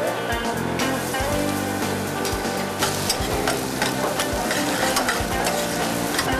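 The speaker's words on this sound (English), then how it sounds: "Just go ahead and throw all that onions and garlic in there." Onions and garlic sizzle and crackle steadily in hot oil in a pan while being stirred, a loud, continuous frying hiss with no talking.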